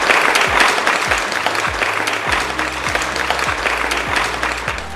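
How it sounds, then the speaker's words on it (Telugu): An audience applauds at a Krishi Chaupal farmers' programme held at an Indian agricultural institute, a steady, sustained wash of many hands clapping, with a low repeating tone underneath. "అందరూ చప్పట్లు కొట్టండి."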